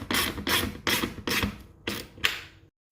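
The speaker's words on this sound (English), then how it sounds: "use a ratchet and socket to tighten it down." A ratchet and socket tightening a 3/8 nut with a locking washer onto a fan bracket: five loud, close, rasping strokes in a steady rhythm, then silence.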